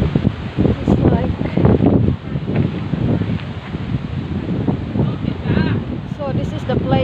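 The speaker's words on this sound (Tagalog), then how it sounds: "So it's very windy." Strong wind gusting outdoors at a hilltop wedding venue, a steady loud rush buffeting the microphone, with a person talking over it throughout.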